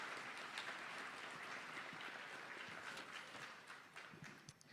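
A graduating class of 2015 applauds at a commencement ceremony, steady dense clapping from a crowd at a fair distance, fading somewhat toward the end.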